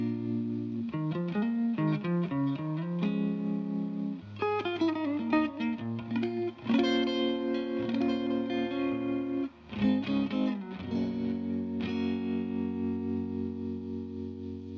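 An electric guitar plays chords and melodic lines through a vintage amp cranked to full volume, loud and overdriven, with a wavering tremolo and a touch of reverb.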